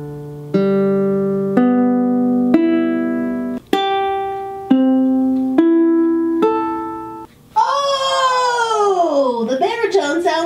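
A baritone ukulele is plucked string by string, six clear single notes ringing out one after another and each decaying before the next, followed by a voice speaking.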